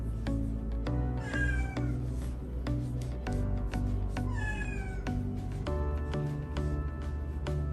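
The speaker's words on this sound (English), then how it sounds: "And that's just my cat in the background." A house cat meows several times in the background of a quiet indoor room, rising and falling calls spaced a second or two apart, moderately close and with no talk over them.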